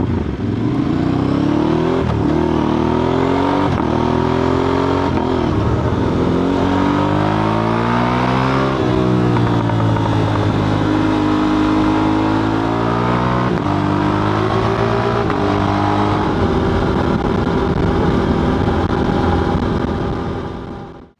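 A motorcycle is ridden with a DJI Mic Mini recorder stuffed in a pocket, giving a loud, continuous engine drone that rises and falls with gear changes over a muffled wind rush.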